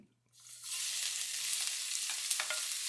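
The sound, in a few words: ginger and garlic frying in a pan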